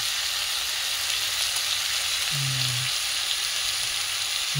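Spices for a chicken curry fry in a pan, a steady, close hissing sizzle throughout with a brief low tonal hum partway through.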